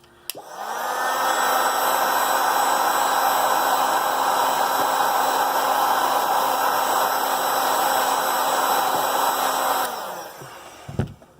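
A heat gun blows hot air onto the back glass of a Samsung Galaxy S10, a loud, steady, close rushing whir with a fan whine that runs for about nine seconds, then spins down and stops with a clunk.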